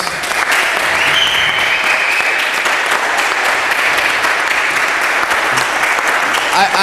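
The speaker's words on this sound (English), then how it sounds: "So please give these ladies another round of applause" Sustained applause from the audience after the women's pro racquetball singles final, Longoria versus Rajsich, a steady dense clatter of many hands filling the hall, with faint voices mixed in underneath.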